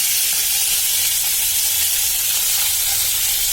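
Carton milk poured into fish frying in a pan for a quick spicy fish curry, setting off a steady, loud hiss and sizzle that runs evenly throughout with no voices.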